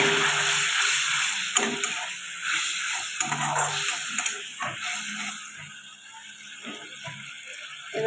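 Gravy for a paneer and egg dish boiling and sizzling in a pan, a steady close hiss with scattered clinks and scrapes of stirring.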